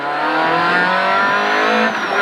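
A rally car on a stage of the Rallye du Pays Basque screams under full throttle, its engine note loud, close and climbing steadily, with a slight dip near the end.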